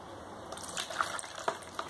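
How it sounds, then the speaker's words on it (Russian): Water is poured into the palm tree of a children's toy fishing game, a faint trickling, splashing fill with a few small drips and plinks, heard alone and up close. "Сразу нальем водички."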